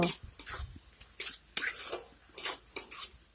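Spatula stirring spinach curry ingredients, ginger paste, chili powder and green chilies, together in a pan, heard as several short scraping, clinking strokes at an irregular rhythm, close and fairly clear with quiet gaps between.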